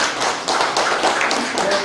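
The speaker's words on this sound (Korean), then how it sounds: "박수 치세요." Members clap at an extraordinary general meeting of the Daewol agricultural cooperative in Icheon, a dense burst of many hands with some heavier taps, steady and close, no talk over it.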